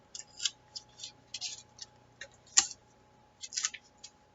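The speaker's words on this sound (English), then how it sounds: "and I'm going to tape those" Adhesive tape is pulled from the roll and pressed onto paper while making a paper fidget toy, giving short, close, crackly bursts in an uneven rhythm with quiet gaps between them.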